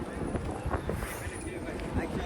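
Wind sweeps across a hilltop at Malnath Hills near Bhavnagar, a continuous low rumble and gusty buffeting against the microphone that holds steady through the short stretch.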